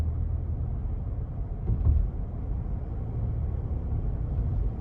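Inside a 2020 Lincoln Navigator Reserve on the move, a low, steady road rumble and engine hum fill the cabin and stay muted and even throughout.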